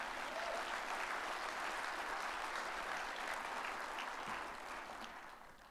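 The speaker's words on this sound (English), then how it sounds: "Let's give that league a round of applause." Audience at a soccer Hall of Fame induction ceremony breaks into steady, full applause that holds strong before gradually tapering off at the end.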